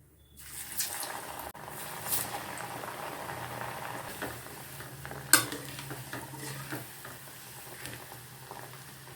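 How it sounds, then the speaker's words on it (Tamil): Raw plantain slices deep-frying in oil over moderate heat, a steady bubbling sizzle throughout with occasional soft clinks and one sharp knock midway; no one speaks. "நான் இன்றைக்கி எண்ணெயில் தான் பொரிச்சு எடுக்க போகிறேன்"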